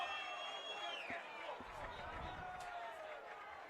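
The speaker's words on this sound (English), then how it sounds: "the roar of the crowd here inside the dome" Steady crowd roar fills an indoor dome at a men's college lacrosse game between Notre Dame and Marquette, a broad continuous wash of noise with a commentator talking over it throughout.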